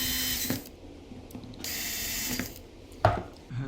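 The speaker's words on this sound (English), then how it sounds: "I'm going to tighten these up." Small ratcheting clicks and clattering metal come from a tool tightening screws on a Shimano Tyrnos fishing reel, in short bursts with brief pauses, close and fairly quiet.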